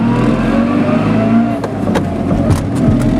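A car driving along a forest road toward a forester's lodge, its engine droning steadily up close with a few sharp bumps and knocks from the rough surface in the latter half.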